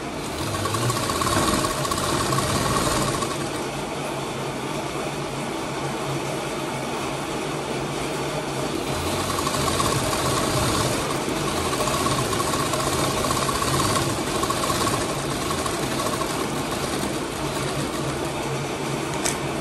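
A sewing machine runs steadily, stitching straight seams through the lining of a little girl's long designer gown, with a continuous whirring motor drone and a faint rhythmic needle clatter that pauses briefly now and then.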